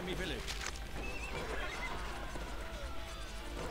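Horses whinny and neigh in the Cossacks 2 real-time strategy battle, with hoofbeats and galloping under the game's din and someone talking over it.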